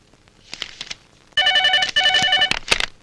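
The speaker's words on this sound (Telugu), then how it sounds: "మీకు ఫోన్." A telephone bell rings in a Telugu film scene, two long trilling bursts after a few softer thumps and movement sounds, loud and close with no talk over it.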